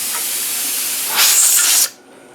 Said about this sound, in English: It's a steady stream of steam.